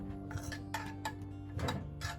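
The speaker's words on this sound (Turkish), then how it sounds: "Kaşığın tencereye çizmesini çok önemliyorum" A metal spoon scraping and clinking against a cooking pot while garlic is fried in butter, making brief light taps and scrapes over a steady low background hum, with no talk.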